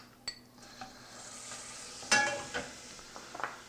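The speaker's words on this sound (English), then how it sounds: "saute your shallots really very lightly" Shallots sautéing lightly in about two tablespoons of butter, a soft low sizzle punctuated by spoon taps and pan clinks, with a sharper metallic knock midway.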